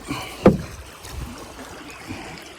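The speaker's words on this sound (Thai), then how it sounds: "ล่องเรือไปเรื่อยๆครับ" A small boat drifting on the water in the morning, with a single knock or bump of the hull near the start and then soft, low water lapping and ambient drift, quiet and close.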